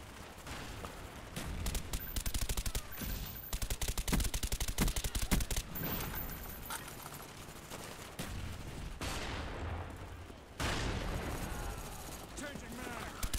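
FAMAS rifle bursts in Call of Duty: Black Ops multiplayer, rapid repeated gunfire in clustered volleys with other weapons going off, while players talk over the shooting.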